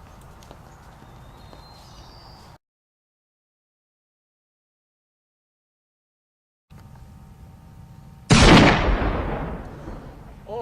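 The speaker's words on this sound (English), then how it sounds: "sounded like a musket shot" A Revolutionary War musket fires once, a loud, sharp blast followed by a long rolling decay, after faint outdoor ambience and a stretch of near silence.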